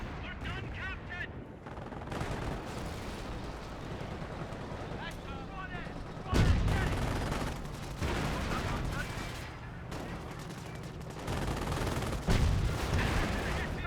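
Artillery barrage and gunfire from a Company of Heroes 1 match, a decoy barrage, with loud booming impacts around 6.5 and 12 seconds over continuous rattling battle noise, under a commentator's voice.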